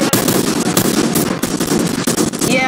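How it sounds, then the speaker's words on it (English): Shooting in the video game Food Fight, a loud, dense rapid burst of gunfire rattling continuously with sharp cracks throughout, close and filling the whole moment with no talk. "This is what you call a snipe."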